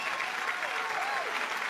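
Audience applause honoring Avudiyappan at a Tamil awards ceremony, a steady unbroken clatter of many hands clapping close and loud for the whole stretch.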